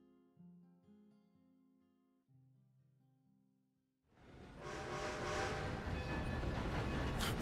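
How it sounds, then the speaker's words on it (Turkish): A train ride in Red Dead Redemption 2. Soft tonal music gives way to a loud, steady rumble and roar of the moving train that fills the second half. "İlk defa tren yolculuğu yapıyorum."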